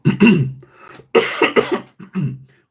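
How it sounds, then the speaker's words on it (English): A few harsh coughs in short bursts, close and fairly loud, with brief pauses between them, at an armwrestling event. "sorry about coughing,"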